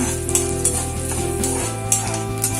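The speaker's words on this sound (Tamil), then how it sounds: "கடலைப்பருப்பு இது நம்ம நல்லா கொஞ்சம் வறுத்துப்போம்" Chana dal and urad dal fry in hot oil in a pan, a close, loud sizzle with a regular scraping stir running through it and small clinks of a utensil against the pan.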